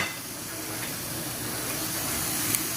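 Ingredients, garlic among them, frying in a pan while they brown, giving a steady, even hiss and sizzle with no other sounds.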